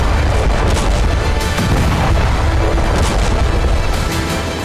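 Sustained, dense barrage of explosions and booming blasts from a Hezbollah missile attack on Tel Aviv, loud and continuous with overlapping impacts and rumble throughout, no speech.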